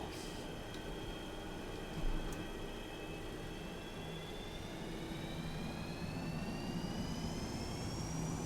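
Jet airliner engines at takeoff thrust in X-Plane 11 hold a steady roar with a rising whine that climbs slowly, heard from inside the aircraft, with a brief thump partway through and no talking.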